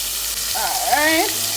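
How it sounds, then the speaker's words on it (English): Liver steak sizzles as it fries in a pot, a steady close crackle with a brief stirring or scraping stir of the pieces midway, no talk. "allow them to go in the pot and fry, and then when it's brown on one side, you flip it."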